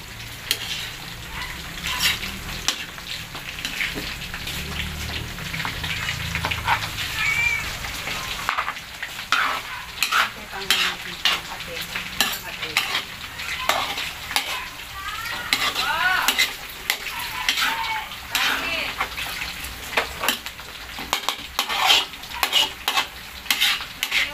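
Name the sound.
sautéing sipo egg in a pan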